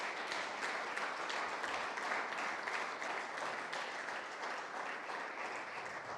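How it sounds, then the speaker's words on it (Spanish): A church congregation applauds, a continuous wash of many hands clapping at an even level, heard from some distance and fairly faint, with no talk over it. "yo creo que Dios se merece un fuerte aplauso"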